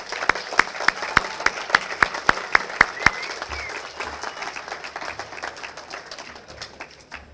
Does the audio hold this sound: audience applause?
yes